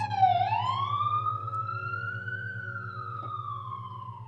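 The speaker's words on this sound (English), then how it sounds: "Let this ambulance pass." An ambulance siren sweeps up and holds a long rising-falling tone, loud and close, over a steady low engine hum.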